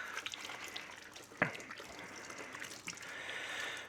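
Water runs from a tap into a sink during handwashing, a faint continuous trickle and splash with one sharper clatter partway through, quiet and close.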